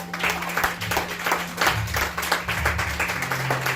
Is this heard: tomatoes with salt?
no